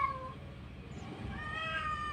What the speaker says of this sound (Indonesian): Luar biasa nih kucing betina yang diperebutkan oleh banyak